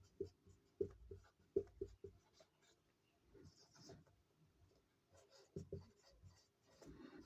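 Pen writing on paper during a physics lesson on electrostatics: soft, intermittent scratching strokes with a few light taps, close and quiet, without talk.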